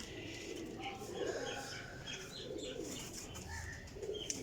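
A high flyer pigeon coos softly in a few low, rolling calls against faint background noise, with some light chirps from other birds nearby.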